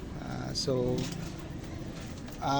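Pet pigeons cooing nearby, a few low throaty coos rising and falling in short bursts, with someone talking over them.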